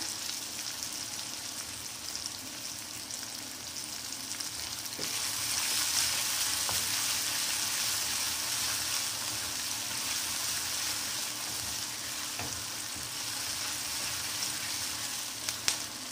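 Curry leaves hit hot oil in a pan of cucumber curry, raising a dense, steady sizzle that swells louder partway through and holds close and continuous, with faint clicks near the end.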